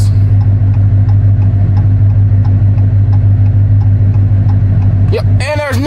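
A Dodge Hellcat with a very loud exhaust idles with a steady, pulsing, deep rumble close by, and a voice breaks in at the end.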